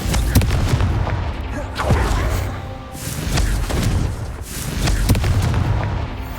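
Confringo fire spell explosions in the game Hogwarts Legacy: a rapid series of loud, booming blasts and crackling bursts, one after another over a dense, rumbling battle background.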